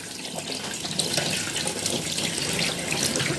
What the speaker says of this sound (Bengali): হ্যাঁ ডেচকির মধ্যে ধুচ্ছি না আমি, বেসিনে ফেলে ধুচ্ছি।